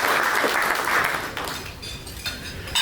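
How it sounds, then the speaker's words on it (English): Investor forum luncheon audience claps for a staff member, a burst of applause that is fullest at first and thins out over a few seconds with scattered late claps. "So a quick round of applause for Cassie."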